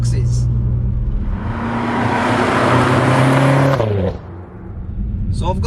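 BMW F10 M5 in Sport Plus throttle mode accelerating hard along a country lane, its engine note rising in pitch as it revs up before dropping sharply at a gear change, loud and close throughout.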